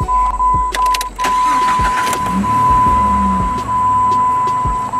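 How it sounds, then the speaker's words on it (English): Car engine cranking briefly and catching, then settling into a steady idle hum, close and clear, with a thin electronic whine running underneath and no talking. "And I'm going to simply start the engine."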